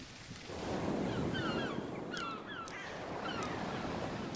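Ocean waves in the Greenhouse game demo give a broad, steady surf roar that swells slightly, with faint higher bird-like chirps over it and no voices.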